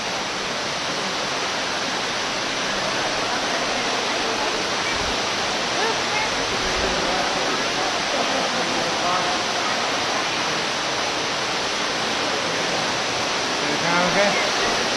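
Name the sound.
waterfall at Ruby Falls cave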